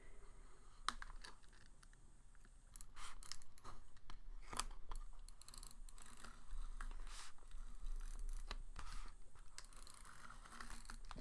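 A glue tape roller is pressed and dragged across a vision board, giving close, faint ratcheting clicks and crinkly scraping in uneven bursts.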